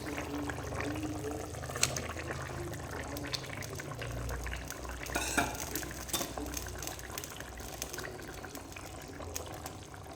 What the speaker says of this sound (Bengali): এখন এটাকে ভালো করে ফুটতে দেবো ঝোলটা আমাদের ফুটে গেছে